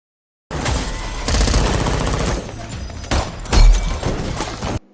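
Gunfire rattles through a film shootout in dense, loud rapid bursts that overlap with crashing impacts and sharper single blasts over about four seconds, then cuts off abruptly.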